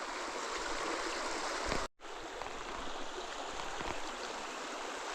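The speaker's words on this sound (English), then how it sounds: "The farther up north you get on this trail, the more you have to cross creeks and stuff like this." Creek water rushes steadily past a washed-out bridge on a northern stretch of the Appalachian Trail, a dense, continuous roar close by with one brief dropout midway.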